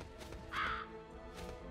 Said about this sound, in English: He's a demon crow.